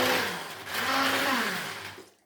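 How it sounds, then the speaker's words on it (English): A hand blender whirs steadily while chopping onions in a home kitchen, with its motor pitch shifting slightly mid-run before spinning down at the end. "So you carefully put the blender inside there."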